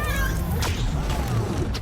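Spider-Cat meows in the Spider-Man Miles Morales video game, a short cry at the start over dense, busy game noise.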